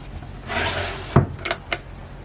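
A drawer of an ENGEL 95-litre upright fridge and freezer install slides open with a soft rolling rub, then shuts with a sharp close thud followed by two lighter knocks, near and alone.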